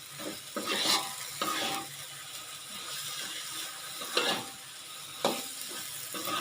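Tongkol tuna is stirred into cooked seasoning frying in a pan. Repeated scraping sweeps and soft clanks of a spatula come over a low, constant sizzle, close and fairly quiet, with no voices.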